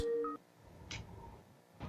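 A phone beeps through a couple of short dialing tones while a call is placed, followed by faint clicks and one brief noise burst at low volume.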